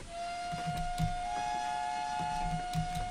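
The steam whistle of a GWR Class 14xx locomotive in Train Simulator 2017 sounds as a steady, sustained tone, with a second overlapping whistle joining partway through, over rumbling, chuffing train noise.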